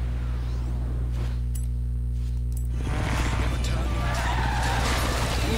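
Car skidding with the e-brake pulled in the racing video game Forza Horizon 3, a loud sustained tire slide with a steady engine drone underneath, carrying on for several seconds without talk.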